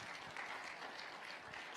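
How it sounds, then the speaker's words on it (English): Audience applause at a youth conference, a steady wash of clapping from a crowd, fairly faint and even throughout. "please give a big round of applause for Ivan"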